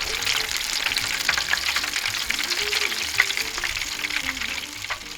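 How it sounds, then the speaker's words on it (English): Steady, crackling sizzle of shrimp frying in hot oil on a Blackstone griddle, with dense popping spatters throughout and a faint low rumble underneath. "While the shrimp are frying"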